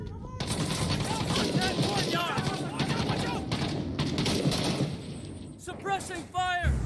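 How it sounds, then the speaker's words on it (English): Rapid bursts of automatic gunfire from the Iraq war shooter Six Days in Fallujah, loud and dense throughout, with shouted voices over the shooting. "Pin enemies in place with suppressive fire while you flank"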